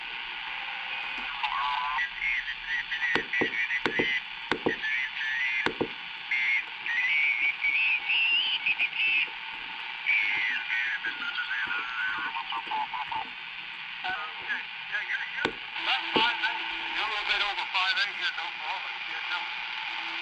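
Upper sideband amateur radio reception on the 20 meter band through a small QRP transceiver: thin, band-limited, warbling voices under steady hiss, with clicks and crackles, continuous throughout.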